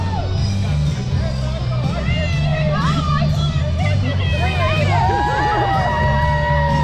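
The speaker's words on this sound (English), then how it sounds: "They're even cheering for themselves." Crowd cheering and whooping at the finish chute of a 5K running race in The Villages, Florida, with shouts and yells rising over steady crowd hubbub and nearby talk.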